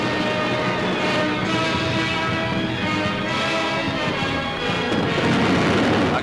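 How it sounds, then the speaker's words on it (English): Fireworks thunder across water at a Royal Naval coronation review, a dense, continuous roar of booms and crackles rolling on without pause, loud and sustained with no voices. "the display of fireworks that followed was a brilliant finale to a glorious Royal Naval occasion"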